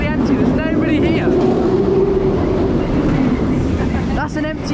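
An empty Nemesis roller coaster train at Alton Towers roars past with a continuous loud rumble and rattling wheels, while people talk and exclaim nearby.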